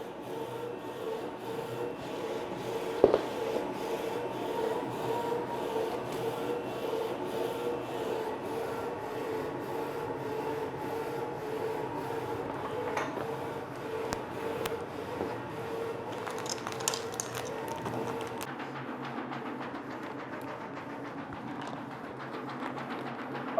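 A FocusInc Nebula-35F PET DTF printer runs while its hot melt powder dusting system works, giving a continuous mechanical whir and rhythmic rubbing, with a sharp knock early on and clattering near the end.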